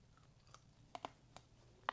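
Someone bites into spicy, sauced braised beef shank with gristly bits, giving a few short, close crunchy clicks and one sharper snap at the end, quiet and without talk.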